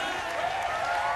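A crowd at a Christian concert in Totonicapán cheers and shouts in a brief, loud, continuous roar of mixed voices and applause.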